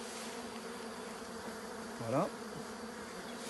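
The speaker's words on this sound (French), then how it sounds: "Ouais, elles sont là, hein, les abeilles." Honeybees hum steadily around an open hive whose second super has its frames pulled, a dense close buzz throughout, with a brief spoken word in French partway through.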